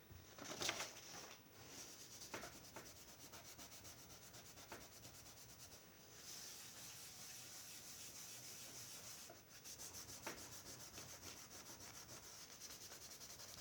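A coloured-pencil drawing of an ostrich being rubbed to blend the colours above its beak, a soft, steady, close scrubbing of paper that runs almost without pause, with a few light taps and no talk.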